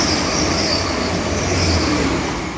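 A Grand Central train thunders past close by at Doncaster station, a loud, steady roar of wheels and engine that fills the whole stretch without letup, with no voices.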